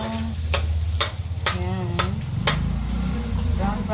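Garlic, ginger and onions frying in a pan, a steady sizzle under regular clicking stirs and scrapes of a utensil against the pan, with a low background hum.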